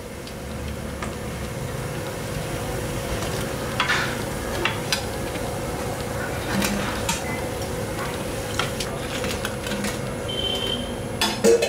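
Vadas deep-frying in oil for dahi vada, a steady bubbling sizzle with occasional light ticks and clinks of a utensil against the pan, close and without talk.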